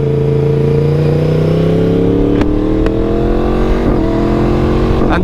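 A motorcycle on an evening ride, its engine droning loud and steady from close by as the pitch slowly climbs, with brief shifts in the drone at gear changes. No talking.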